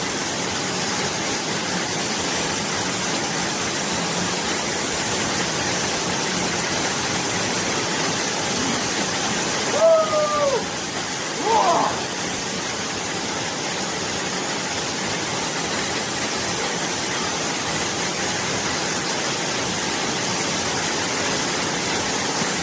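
A waterfall of more than 20 feet pours in an old quarry in the Lake District, a steady broadband roar of falling water heard up close and unbroken throughout.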